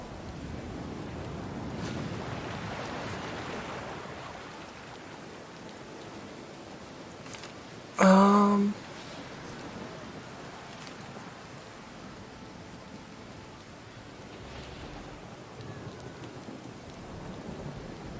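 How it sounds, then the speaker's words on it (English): A storm at sea in the video game Pillars of Eternity II: Deadfire, with rain drumming steadily on a ship's deck and low rumbling wind. A brief bright chime cuts in midway. "The rain drums against the deck."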